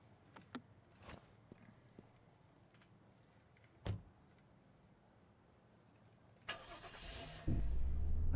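Getting into a police car in the Flashing Lights emergency services simulator: footsteps and a door thunk, then a car door closing and an engine starting up, with a steady engine drone filling the last second.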